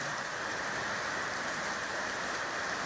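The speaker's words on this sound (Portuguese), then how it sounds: "Deus fazendo chuvas de inverno na cidade de Joinville" Winter rain falls steadily over the city of Joinville, a dense, even hiss of drops on surfaces with no pauses and no voices.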